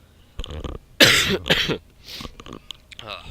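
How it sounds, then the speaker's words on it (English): A burst of harsh coughing from a person with a cold, several hacking coughs close to the mic, followed by a throat-clearing sound and some quieter breathy noises. "Excuse me for a second, I just got a cough."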